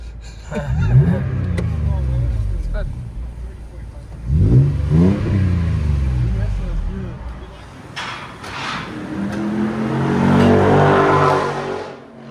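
A Toyota Tacoma 4.0L V6 truck engine revs up repeatedly through a rumbling aftermarket exhaust, rising and falling in pitch, close by, with voices talking underneath.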